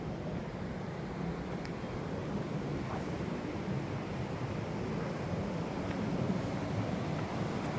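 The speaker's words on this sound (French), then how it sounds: "on entend l'eau qui passe en dessous" Steady broadband rush of river water flowing beneath rocks, continuous and fairly loud throughout with no talk, close to the stream.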